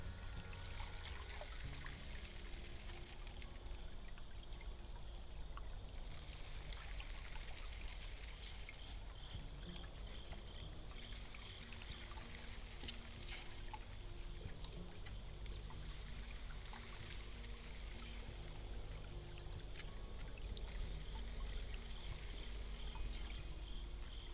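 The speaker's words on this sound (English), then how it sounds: "sluice is running great right now" Water runs steadily through a gold sluice box over broken bedrock, a continuous close trickling and rushing wash that holds even for the whole stretch with no voices.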